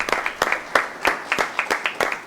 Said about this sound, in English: So Randy, if we could maybe give you a round of applause